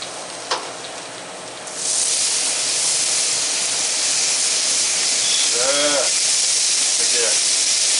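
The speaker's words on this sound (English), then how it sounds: "We're going to throw this steak on." A steak hits a hot Blackstone griddle slicked with olive oil, bursting into a loud, steady hiss and sizzle that holds for several seconds, with a brief clatter at the start and faint scraping near the end.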